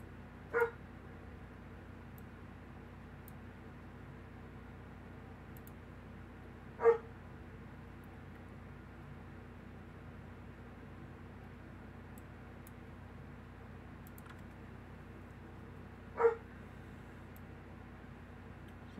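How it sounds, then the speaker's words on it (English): A pet dog barks somewhere in the house, three faint, isolated single barks spaced several seconds apart over a quiet background hum. "Now my dog's starting to bark."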